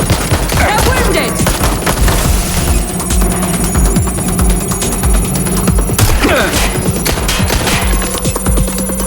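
Gunfire in the video game Watch Dogs Legion: dense, continuous bursts of rapid shots and booms fill the whole stretch, loud and close, with shouted voices and a ringing alarm mixed through the chaos.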